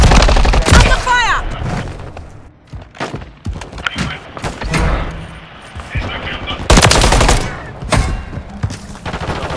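Rapid automatic gunfire and bursts of shots in the video game Modern Warfare 3, loud and dense throughout, with a player's voice talking over the firefight.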